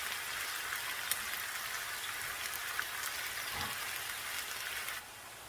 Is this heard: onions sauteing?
yes